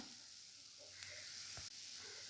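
Spices and turmeric powder fry in a pan, a steady, soft sizzle and hiss close by with a brief scrape or stir partway through, no voices.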